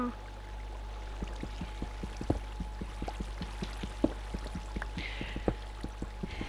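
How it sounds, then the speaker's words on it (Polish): Water poured from a bucket onto lava in the Minecraft video game, a steady watery pour with a run of short, evenly spaced clicky game effects and a low constant hum beneath. "Mam wiaderko z wodą. To zalej tą lawę."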